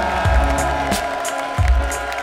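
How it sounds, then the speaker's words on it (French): A crowd at a Paris event claps and cheers for John Hay, loud sustained applause with cheering and music-like tones underneath, fairly close and continuous throughout. "merci de faire un tonnerre d'applaudissements pour John Hay"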